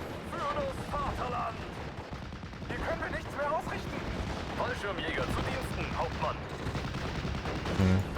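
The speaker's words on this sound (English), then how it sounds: "They're shooting at my LG at the moment." Dense gunfire from the Steel Division: Normandy 44 battle on the Odon map: a continuous crackle of rifle and machine-gun shots mixed with heavier artillery-like booms, loud and unbroken throughout.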